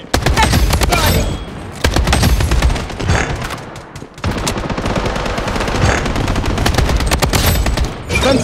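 Automatic gunfire in Bloodstrike rattles in loud, close machine-gun bursts with brief lulls between them, dense rapid shots filling nearly the whole stretch.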